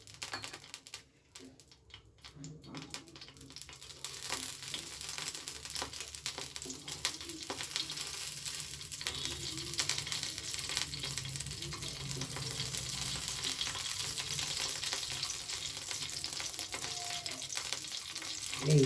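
Oil heats on a tava for roasting, a steady close crackling sizzle that builds after a quieter start and holds a dense, even hiss to the end, with no talk.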